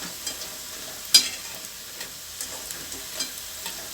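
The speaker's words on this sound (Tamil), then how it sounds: "இப்போ பாருங்கள் இந்த சலசலப்பு அடங்கட்டும் சலசலப்பு அடங்கிச்சு" Bitter gourd pakoda in hot frying oil makes a faint, quiet sizzle with light bubbling, a few soft ticks and one sharper clink, unaccompanied by voices.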